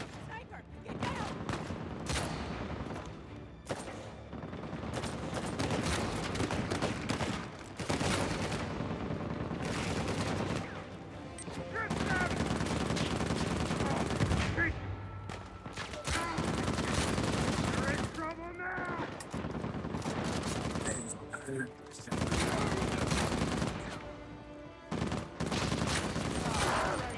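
Gunfire from the Uncharted 4 video game, including a sniper, crackles in repeated loud bursts and volleys through most of the stretch, with players shouting and talking over it.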